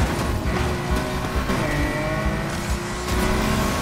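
A Nissan R34 GT-R V Spec in Need for Speed Heat revs hard and close, its engine note rising and falling through quick shifts amid road noise.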